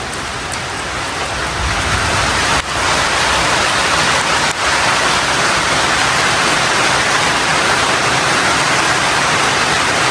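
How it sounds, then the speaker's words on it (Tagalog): Steady rain falls outdoors beside a river in a continuous, even broadband hiss of drops landing on surfaces, loud and close throughout with no voices. "Umuulan na."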